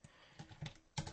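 A few soft computer keyboard keypresses, a Ctrl+T shortcut in Photoshop, tap out alone at close range: a light click, two more, then a firmer final press.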